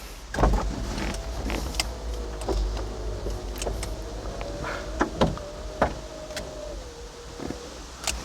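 Electric power windows on a Saab 900 convertible hum steadily for several seconds as the glass travels, with a few clicks and thumps from the car around them, fairly close and with no talk.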